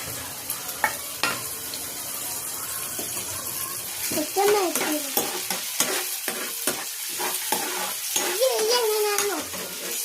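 Food being stirred in a frying pan while a young child helps cook at home, with steady sizzling and scraping under frequent talk from an adult and a child.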